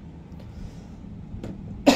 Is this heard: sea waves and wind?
no